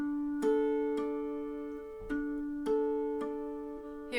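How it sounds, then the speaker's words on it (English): Bell-like harmonics ring from a mountain dulcimer string, several plucked tones a second or so apart, each sustaining and slowly fading, soft and close with no talk. "A harmonic sounds like this."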